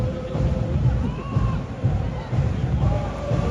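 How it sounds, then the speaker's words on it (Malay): Kuala Lumpur football fans cheer in a stadium during a match against Selangor, a broad, steady crowd roar and babble that stays loud and even throughout. "Bersorak fan-fan Kuala Lumpur."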